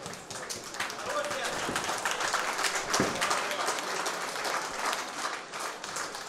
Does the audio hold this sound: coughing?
no